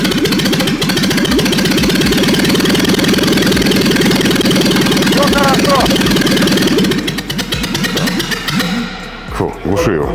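A fire-damaged car's engine runs at idle without choke, loud and close, with a steady throbbing rhythm that wavers and thins out near the end.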